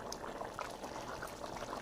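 Water boiling off in a pot of potato-and-pea pulao makes a faint, steady bubbling and sizzling that carries on without a pause.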